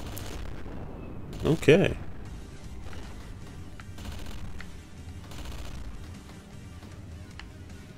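Gunfire from the side-scrolling shooter Gigantic Army crackles in bursts over busy game noise, with one louder blast early on, while a person speaks briefly.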